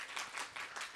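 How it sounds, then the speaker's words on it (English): Audience applause for a panel at an agri-food systems event, a steady wash of hand clapping from a crowd, moderately faint and continuous with slight swells. "Please a round of applause to them."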